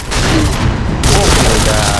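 Dense, loud bursts of gunfire and blasts from a grenade explosion in the online shooter Point Blank, a continuous rattling barrage that fills the whole moment, with a voice shouting over it.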